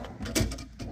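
A toolbox drawer holding torque wrenches slides open in a diesel mechanic's toolbox, giving one quiet short rolling clunk with a faint rattle, alone in a calm room.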